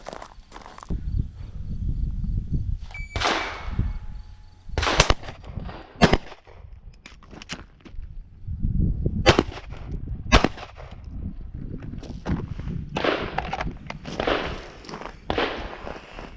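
Handgun shots fired on a law-enforcement qualification range from 20 yards, standing then kneeling with an emergency reload, sharp loud cracks in separate groups with shuffling and handling noise between them.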